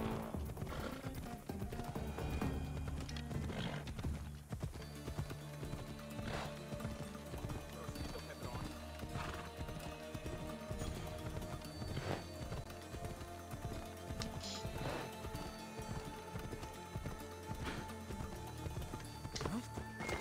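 Galloping horse hooves from Assassin's Creed Odyssey pound in a continuous rhythm amid dense game music and battle ambience, loud and sustained throughout.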